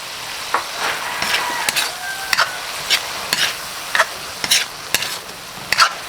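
Spam and sausage frying in a pan, a steady bright sizzle with intermittent crackles and pops, close and loud, no voices.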